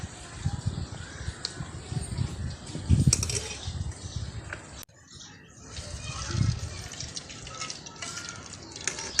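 Water is poured and sloshes in a kadhai (wok) in a kitchen, with dripping and liquid splashes in two bursts around a brief pause, moderately close, and a crow caws faintly outside.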